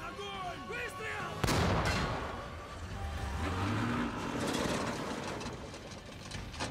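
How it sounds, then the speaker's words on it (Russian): A tank cannon in the War Thunder video game fires one sharp, heavy blast, followed by rumbling engine noise and battle sounds that carry on at a moderate level. "Готов! Огонь! Выстрел!"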